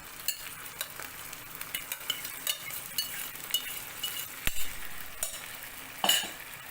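Moong being stirred into a sizzling mixture in a pan, with repeated scraping strokes and faint metal clinks over a low hiss of frying, close and moderately quiet, no talking.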